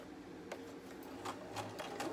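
A home sewing machine stitches a ruffle onto a diaper cover or romper in a soft, quiet whir, with a few brief clicks and taps breaking the steady running sound.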